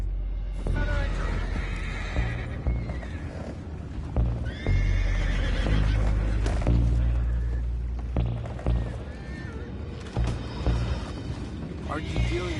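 Horses in Red Dead Redemption 2 neigh and whinny repeatedly over clip-clopping hooves, with game music, rumbling booms and characters talking throughout.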